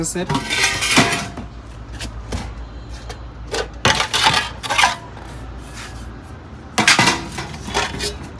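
Aluminium cooking pots with lids, used ship's kitchen ware in Bhatiary, being handled and knocked together, giving bright metallic clanks and lid rattles in bursts, close and loud, with someone talking between them.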